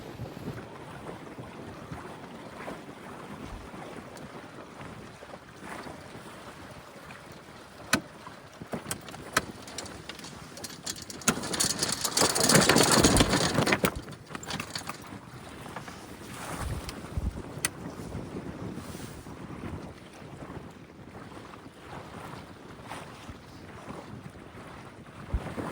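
Sailboat tacking on a lake, with steady wind buffeting the microphone and water rushing along the hull, swelling into a loud gusty stretch midway before settling back to a constant rush; no voices.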